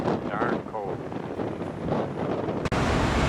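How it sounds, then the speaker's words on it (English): Strong, cold wind buffets the microphone with a loud, continuous rumble outside a cathedral in London, while a person speaks faintly underneath. "It's windy, darn cold."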